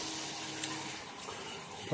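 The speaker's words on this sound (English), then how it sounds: "Put your water on." Water runs from a bathroom tap while brushing teeth, a steady broadband splashing hiss filling the short clip at moderate level with no talk.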